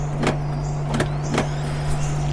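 A Maruti Suzuki NEXA XL6 locks with a few quick mechanical clicks and thunks over a steady low electrical hum, close by and fairly loud.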